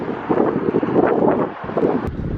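Evening wind in Astana near the Ishim River buffets the microphone with steady rumbling gusts that swell and ease across the clip, loud and close, with no talking.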